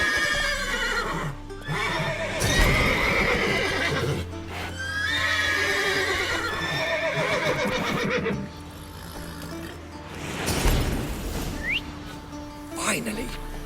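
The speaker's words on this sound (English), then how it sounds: "Gotta call all the horses before they wake the guards." Several horses in The Witcher 3: Wild Hunt neigh and whinny in repeated loud bursts, with hooves clopping and voices talking in between.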